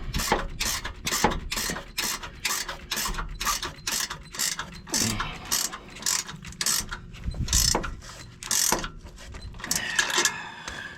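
A ratchet tightens a tow protector mount onto a vehicle's hitch receiver, with a long run of rapid, close mechanical clicks in quick strokes, pausing briefly and then resuming, with no talking.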